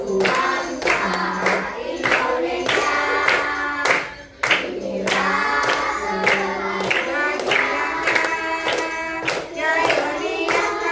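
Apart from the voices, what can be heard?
class of children clapping along to a song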